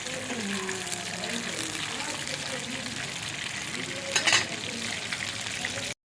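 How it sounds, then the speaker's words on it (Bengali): Chicken balls fry in a small amount of oil at home, giving a steady close sizzle throughout with a brief louder crackle near the end. "আমি এখন চিকেন বোলটা ভাজতেছি হালকা বেশি তেল দেওয়া যাবে না"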